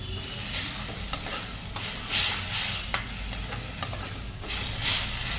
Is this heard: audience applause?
no